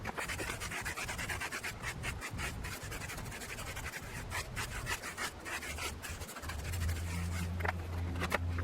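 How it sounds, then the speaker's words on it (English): A medium stiffness bristle brush scrubbing a rubber tire, giving a continuous close, rough scratching with rapid back-and-forth strokes, and a low hum creeping in toward the end. "I'm going to scrub the left half of this tire. I have a medium stiffness bristle brush."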